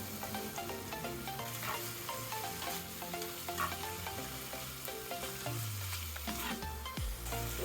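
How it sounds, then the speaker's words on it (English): Beef with black pepper, soy sauce and sliced mushrooms sizzles steadily in a hot pan as a utensil stirs it with repeated scraping clatters, heard close up throughout over soft background music. "Saute this for 1 to 2 minutes"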